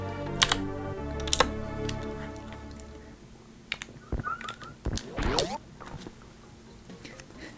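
Computer keyboard clicks during a Super Metroid speedrun, sharp scattered keystrokes and taps over ongoing game music and sound effects.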